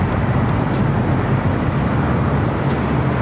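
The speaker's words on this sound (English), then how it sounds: "This is 777-300ER with KLM next to take off here on the north side on 24 right." A KLM Boeing 777-300ER jet taking off from runway 24 right at LAX, a broad steady roar of engine noise heard from a distance, with no voices.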